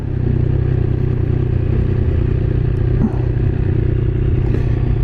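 Triumph Speed Triple 1200RR engine droning steadily at close range with wind noise as the rider shifts smoothly with the quick shifter, showing a brief dip around the gear change.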